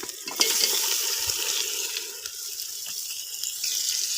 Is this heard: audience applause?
no